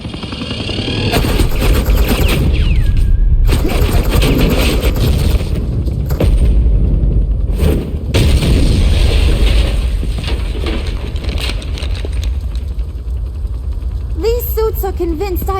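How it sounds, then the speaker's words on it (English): Suppressing gunfire in Telltale's Batman game arrives as a loud, sustained clatter of mechanical bursts and booms, with brief gaps and a voice speaking near the end. "suppressing fire"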